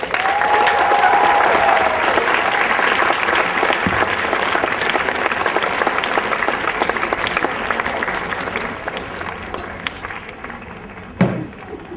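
A large audience at a high school graduation ceremony applauds award recipients, a dense, sustained roar of clapping with a brief whistle early on and a few scattered cheers as it gradually eases.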